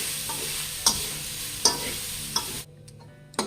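Grated coconut for coconut laddu fries in a pan, stirred with a few sharp scrapes and taps over a soft, steady sizzle that drops off suddenly near the end.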